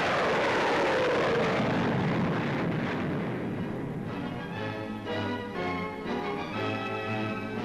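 Comet jet airliner resuming service, a loud roaring jet engine that fades slightly over several seconds, with a steady whine and hum beneath it.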